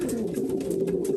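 Racing pigeons coo in a loft, a low rolling warble held steadily and close, with soft rustling and faint background noise around it.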